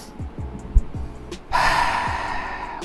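A runner takes deep belly breaths, short sharp nasal inhalations in a quick rhythm, followed by a longer breathy exhale.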